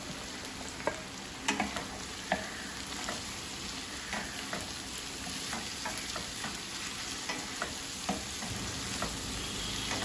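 Small shallots fry and sizzle steadily in a pan with ginger and green chilies, broken by repeated scraping stirs of a utensil, close and moderately quiet, with no voices.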